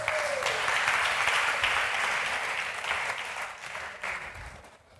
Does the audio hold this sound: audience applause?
yes